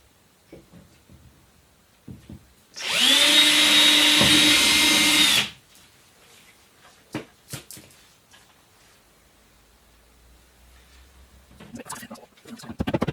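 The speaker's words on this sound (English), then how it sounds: "so I'm going to use an 8mm drill bit, which I'm sure will do the job." A power drill fitted with an 8mm bit whirs loudly for about three seconds while boring a hole, then stops, followed by scattered clicks and handling noises.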